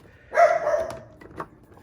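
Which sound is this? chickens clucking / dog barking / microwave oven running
dog barking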